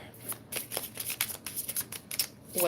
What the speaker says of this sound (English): let me give that one more or two more shuffles here